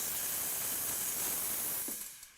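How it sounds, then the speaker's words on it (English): Steam wand on a Sage BES920 Dual Boiler espresso machine letting out a steady, loud hiss of steam for about two seconds, then cutting off abruptly. "Simply push it to the open position and the steam comes out."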